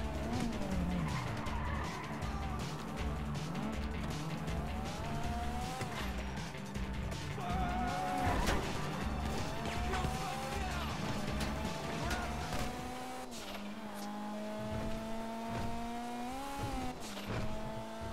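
A car in the video game GTA V drives with a steady engine hum and repeated screeching tire skids across a long stretch, with voices faintly underneath.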